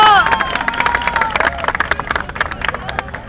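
Audience applause, close and lively, with distinct individual claps and a few cheers, while a voice talks over the start before the clapping takes over.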